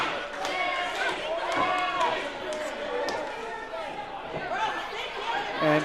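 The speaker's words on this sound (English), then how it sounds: "listen to this Johnstown crowd get behind Slammin Sammy" A wrestling crowd in Johnstown cheers and chatters as a low, steady roar beneath a commentator's continuous talk throughout.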